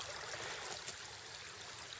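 A shallow river on Kodiak flowing steadily with a broad, even wash of water during a walk upstream, continuous and close, with no talk.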